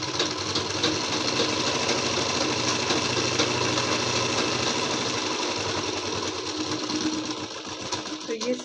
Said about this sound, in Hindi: अब इसको ऐसे सिलाई लगाएंगे